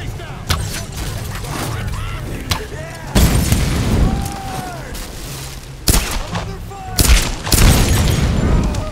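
Gunfire in the Tomb Raider video game: repeated shots and heavy booms through a busy firefight, with bursts near 3, 6 and 7.5 seconds. Voices talk over much of it.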